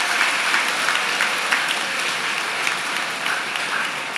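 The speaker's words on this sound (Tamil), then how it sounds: "அவர்களை ஒரு இனிய கரகோஷத்துடன் வரவேற்க வேண்டும் என்று உங்களை வேண்டி கேட்டுக்கொள்கிறேன்." Audience applause welcoming a guest at a school day event, a dense continuous wash of many clapping hands from a large crowd, even in loudness from start to finish with no talking.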